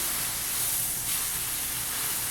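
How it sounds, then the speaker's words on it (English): A filet mignon sears in rosemary salted butter in a pan with a steady, close sizzling hiss, even and continuous, with no talking. "Look at that sear on that steak"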